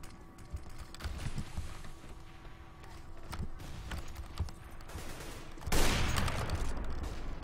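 Gunfire in the video game CS:GO, a series of sharp shots scattered through a match with footsteps and background noise, ending in a louder burst of firing, with brief talk in the background.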